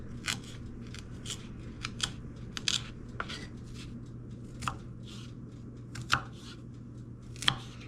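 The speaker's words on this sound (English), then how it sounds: "And I'm dicing them pretty small." Knife dicing peppers small on a cutting board, a scattering of crisp, irregular chops and snips over a low steady hum, fairly faint and with no talk.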